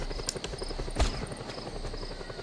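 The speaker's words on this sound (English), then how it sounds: "There's a chopper." A helicopter in Just Cause 2 gives a steady, loud throbbing drone, with a continuous rotor beat and a brief heavier thump near the middle.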